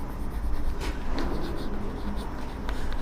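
A pen or pencil writes a beam's depth dimension onto a construction drawing for a concrete quantity calculation, giving a steady close scratching across the whole stretch with no talk over it.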